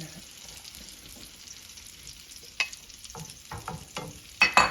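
Food being returned to a hot pan and stirred, with quiet sizzling at first, then a series of scraping stirs and clatters that grow louder toward the end, close by.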